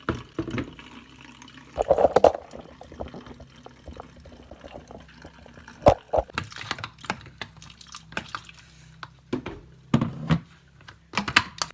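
Diluted yeast being poured into a bottle while making homemade lemonade, with soft liquid splashes and trickles in a few short bursts alongside light handling knocks, close and fairly quiet.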